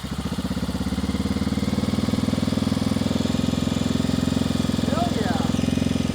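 A 1994 Honda XR650L motorcycle engine runs after sitting for 14 years, with a steady, loud, close thumping idle throughout and voices nearby.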